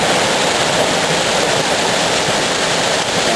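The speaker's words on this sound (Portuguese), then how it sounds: "Tem aqui talvez uma das primeiras quedas de água, a água do rio Araguari" Rushing water from one of the first small waterfalls near the headwaters of the Araguari River, where the river is still a thin stream, gives a steady, dense hiss with no pauses.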